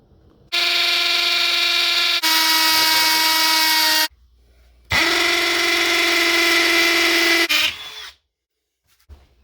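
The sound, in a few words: hammer drill with masonry bit drilling holes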